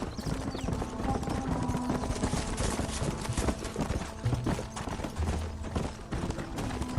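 Horse hooves clip-clop at a gallop in Red Dead Redemption, steady and busy, with scattered rattles and clatter over a dense, continuous game soundscape.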